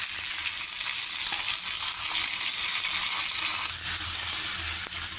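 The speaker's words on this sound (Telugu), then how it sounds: "మనం ఇప్పుడు ఈ పోపు వేస్తున్నాం కదా పోపులో మిక్స్ చేసుకోవాలి" Boiled vegetable pieces stirred into a sizzling tempering in a pan, a dense continuous hiss of frying oil with faint scraping of the stirring, close and steady throughout.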